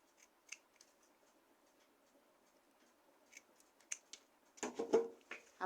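Scissors snip tissue paper from a tissue roll while making a floral wrist band, giving a few quiet, sparse clicks and snips before a louder burst of rustling cuts near the end, with no talking.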